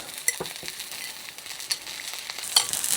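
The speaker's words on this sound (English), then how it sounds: "A little vinegar and sugar. We'll mix that up." Vinegar and sugar stirred together for a Japanese cold noodle dressing, a continuous close scraping and swishing with a few sharper clicks against the bowl.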